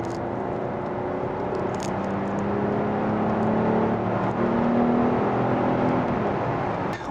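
A 2021 Kia K8 with a 3.5 V6 engine, set to sports mode, accelerates steadily from inside the cabin, its engine tone rising smoothly under road and tire roar, continuous and moderately loud.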